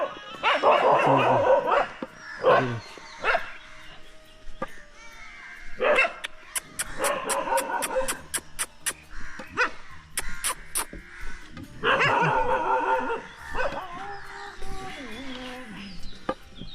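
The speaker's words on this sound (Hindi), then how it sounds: "पता नहीं क्या सिलसिला है, क्या देख के भौंकते हैं समझ में नहीं आता है" Dogs bark in a village, Sivni Sagan, along the Narmada Parikrama pilgrimage route, with a run of sharp, close, repeated barks in the middle and someone talking before and after.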